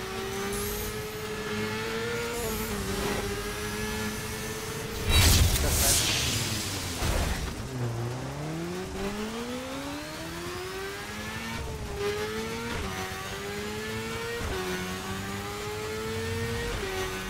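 A 2015 BMW S1000RR motorcycle in the racing game The Crew accelerates, its engine whine climbing through repeated gear changes, with a brief rushing burst midway and a close, steady drone throughout.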